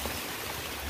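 Rain falling outdoors in rural Vietnam among coconut trees, a soft, even hiss of drops pattering steadily at low level with no speech.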